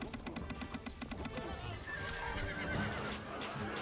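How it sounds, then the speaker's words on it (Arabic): In the video game Stronghold: Crusader, rapid drumming hoofbeats of a galloping horse, then a loud whinny rising over a busy, layered backdrop. "الحصان سريع."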